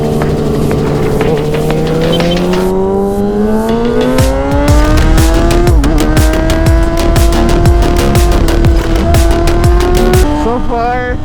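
A Kawasaki ZX6R sport motorcycle runs at full throttle on a road in Batangas alongside cars. The engine roars loud and close, climbing in pitch through several gear shifts over constant wind rush.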